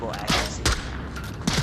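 Rapid bursts of video game gunfire crack in quick succession, with punchy low thumps among the shots, loud and close over a dense background of game noise.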